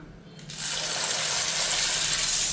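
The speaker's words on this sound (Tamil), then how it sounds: "அதில் நம்ம பாஸ்தா போட்டு வேவிச்சுக்கலாம்." Dry pasta dropping into a pot of already boiling water with oil added, giving a steady close rush of bubbling and splashing that swells after a brief quieter start, with no talk.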